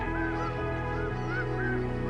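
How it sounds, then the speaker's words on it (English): A flock of migrating birds over the wetlands of Izembek National Wildlife Refuge in Alaska gives repeated honking calls at moderate distance over a steady low ambient drone. "a flock of birds migrating over wetlands"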